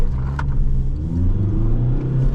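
A manual diesel car pulls away hard from traffic lights, building turbo boost before the clutch comes up. Its engine gives a loud, low, rising roar as it accelerates, heard close and alone.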